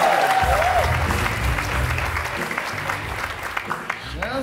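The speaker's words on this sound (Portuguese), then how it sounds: "Mais aplausos para a Jansen" Audience applause at a stand-up comedy roast fills the room, steady clapping and crowd noise sustained throughout, with a host's voice calling out over it near the start.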